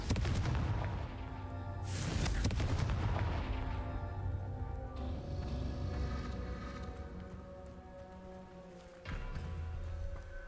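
The Confringo blast spell in Hogwarts Legacy goes off in a loud, sharp explosive burst. A rumbling tail and game ambience follow, then a second, softer thump near the end.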